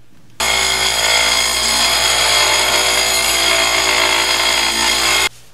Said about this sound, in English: So I'm going to get on the grinder and take away just a little bit of this